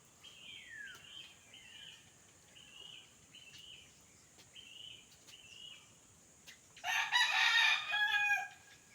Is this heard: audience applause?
no